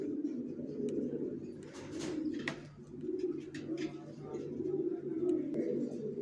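A pair of racer pigeons coo in a low, steady, continuous murmur, close and fairly loud, with a few faint higher chirps and clicks above it and no talking.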